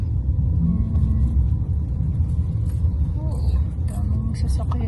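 Steady road traffic rumbles past near a campground at Radium Hot Springs, a continuous low drone of cars with people talking over it.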